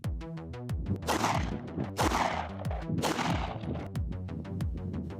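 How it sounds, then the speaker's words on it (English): Three rifle shots fired at an outdoor shooting range while testing a red dot sight, three sharp loud blasts about a second apart, each trailing into echo, over a steady background hum. "We're gonna fire 3 rounds and then we're gonna check to see where it is."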